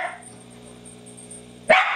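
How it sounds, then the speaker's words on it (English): A dog gives one sharp, loud bark at the very end, after a quiet indoor stretch with a faint steady hum. "Who is she barking at? Probably the door."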